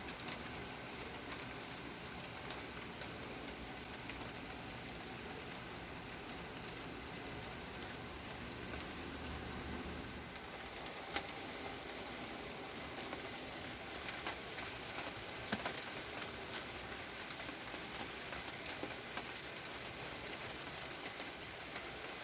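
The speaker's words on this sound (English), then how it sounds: "It's finally raining." Rain falls outdoors over a garden with a potato test bed, a faint, steady patter of drops with occasional sharper taps and distant bird calls, and no one talking.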